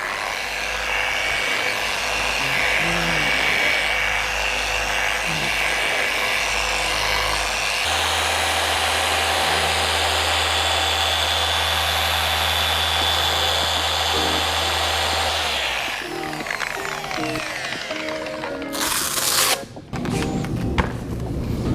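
A Rupes Bigfoot 15 Mark V dual-action polisher running at speed setting 2500 on a yellow pad, a steady loud motor whine and hum that shifts tone partway through, then winds down near the end.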